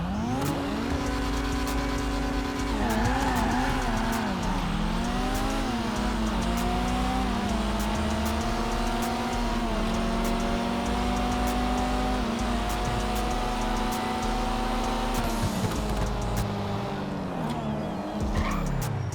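Cars in GTA 5 Online, a Jester Classic and a Jester RR, race a standing quarter mile on a drag strip, with engines rising in pitch through repeated gear shifts and tires squealing, loud and continuous.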